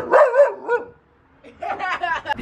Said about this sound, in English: What are you barking for?